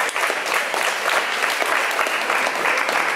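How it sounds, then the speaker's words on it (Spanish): Applause from an audience for schoolchildren competing in a primary-school chess tournament, a loud, steady burst of many hands clapping together, close and continuous with no talk over it. "Un fuerte aplauso a todos los competidores."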